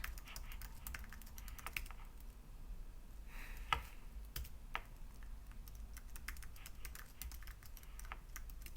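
Computer keyboard keys tapped in irregular bursts while entering a package install command on a FreeBSD desktop running on a 10th Gen i3 Intel NUC, close and moderately quiet clicks over a low steady hum, with no talking.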